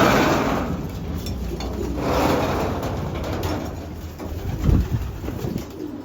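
A Senbag female pigeon passes overhead at a rooftop loft, soft wingbeats and cooing from nearby birds under steady outdoor background noise, with a brief louder flutter near the end.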